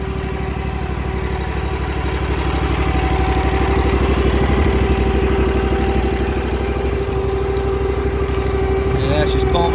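A riding lawn mower engine with an adjustable-height cutting deck idles steadily as it warms up, its RPM gradually settling. The drone is loud and continuous throughout.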